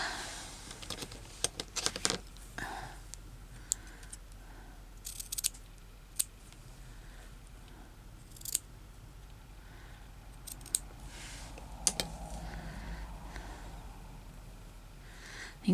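Scissors snipping crazy patchwork fabric at close range, a quiet scattered series of sharp clicks and short cuts with irregular pauses, faint room hiss beneath and no talk.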